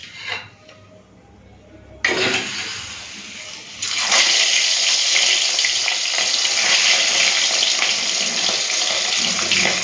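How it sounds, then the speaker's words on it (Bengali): Bele fish frying in hot mustard oil in a heated kadai, starting with a quiet stretch and then a sudden burst of loud, steady sizzling that grows even stronger after a few seconds and holds as a dense hiss throughout. "এরপরে মাছটা ভেজে নেব"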